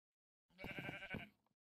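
A blue sheep in Minecraft bleats once, a short wavering baa of about a second, fairly close and alone against silence.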